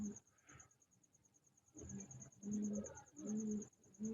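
Sialkoti Jonsiry pigeons coo close by in a series of soft, low throaty calls that come in short repeated phrases, with faint bird chirps and a steady high insect-like whine behind them.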